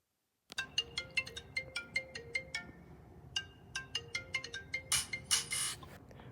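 A phone ringtone plays a rapid, bright melodic pattern of repeated beeping notes, loud and close, continuing for several seconds without talk.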